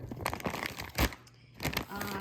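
Close crinkling and rustling of plastic comes as a resealable bag of frozen organic cherries is opened by its flap, in a few quick bursts with short pauses between.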